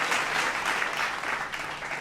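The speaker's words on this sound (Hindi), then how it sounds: "ताली बजाओ मेरे सम्मान में" An audience claps steadily in a dense, continuous round of applause at a televised poetry gathering, loud and close throughout with no pauses.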